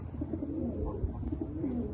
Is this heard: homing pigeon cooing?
yes